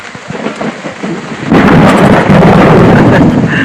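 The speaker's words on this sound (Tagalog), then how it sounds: "Ang lakas ng kidlat." A thunderstorm rumbles over a farm campsite beside a camper van, with rain falling and a loud thunderclap bursting in halfway through, then a sustained heavy roar of thunder and downpour.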